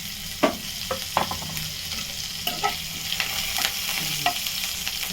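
Cumin seeds, ajwain and green chilli sizzle in hot oil, a steady bright crackle with several sharp clicks and scrapes from stirring, close up and with no voices.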